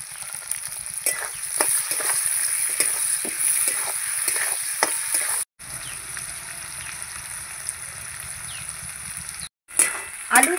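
Potato and onion pieces fry in hot oil in a pan with a loud, continuous sizzle, broken by repeated scraping stirs of a utensil close by; two short silent gaps cut through the sizzling.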